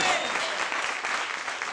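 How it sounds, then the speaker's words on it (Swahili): Church congregation applauding God during a sermon, a thick, sustained round of many hands clapping at steady volume, with some crowd voices mixed in beneath. "Makofi kwa Mungu aliye hai"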